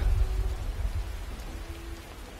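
Steady rain falling in the Skyrim video game, a continuous low wash of patter with a faint tonal hum underneath, fairly quiet and unbroken, with no one talking.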